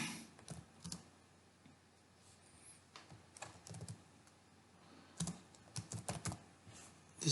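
Soft clicking of a computer keyboard as code is typed, coming in irregular clusters of keystrokes with short pauses, quiet and close.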